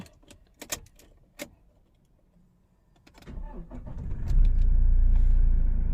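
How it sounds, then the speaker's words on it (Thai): A new car with LED lights rattles and clicks as it is prepared, then the engine cranks and catches around three seconds in, settling into a steady close idle rumble. "เดี๋ยวลองสตาร์ทรถกัน"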